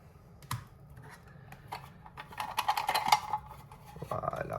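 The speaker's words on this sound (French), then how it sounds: "Je vais prendre encore quelques cartes de ce tarot." Tarot cards drawn and shuffled from a deck, close soft papery slides and flicks in an uneven cluster that grows busier toward the middle, with no speech.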